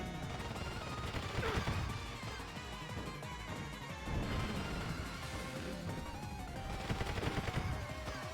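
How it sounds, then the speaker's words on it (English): Rapid machine gun fire rattles in bursts in a Mario Kart clone video game, mixed with crashes and impacts over busy game music and engine noise at low volume, with no voices. "Do I get a machine gun?"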